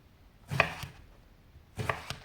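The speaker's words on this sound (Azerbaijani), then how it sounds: "Badımcanların hər ikisini doğrayıram." Knife chopping eggplants on a cutting board: two short bursts of crisp chops, each a quick cluster of blade strikes, close and moderately loud with quiet gaps between.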